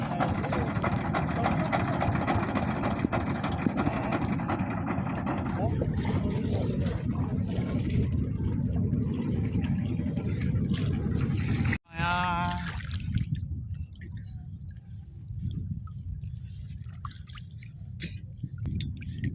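A boat engine drones steadily on a river for about twelve seconds, loud and continuous, then cuts out abruptly; afterwards only quieter water and ambient sounds remain, with voices faintly present.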